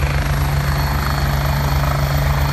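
A carabinieri helicopter passes overhead, its rotor and engine roar steady and loud throughout with a constant low hum and no voices.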